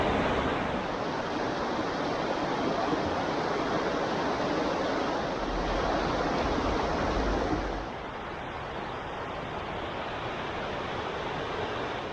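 Steady rushing river water in New Hampshire fills the air with a constant broadband roar, loud and unbroken, easing slightly partway through.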